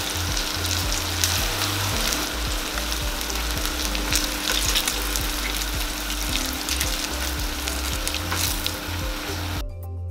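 Saltfish fritters frying in hot oil, a dense, continuous sizzle with crackling at close range, steady and loud throughout, with a faint low hum underneath and no talking.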